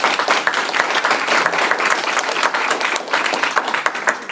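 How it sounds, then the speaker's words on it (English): Sustained applause from an audience honoring authors at a magazine launch event, dense steady clapping throughout at fairly close range, with no talk over it. "can we just give a round of applause to that?"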